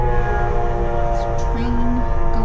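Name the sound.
train going by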